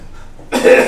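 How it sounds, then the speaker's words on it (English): After a near-silent start, a single loud, harsh cough bursts out close by and rings on briefly. "the coughing"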